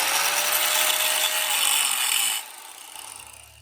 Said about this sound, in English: it might just be easier to get a grinder on it